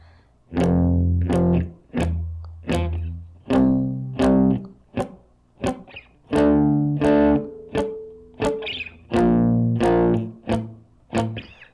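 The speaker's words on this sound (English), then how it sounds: "we're going to play it twice palm muted and then just twice muted with the left hand." Chugging distorted electric guitar power chords, palm muted, struck in short rhythmic bursts with brief pauses between phrases, loud and close.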